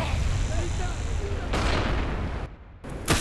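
Naval strike artillery blasts in a video game, heavy rumbling explosions with broad noisy bursts, loud and close, one dropping out abruptly before a final sharp crack.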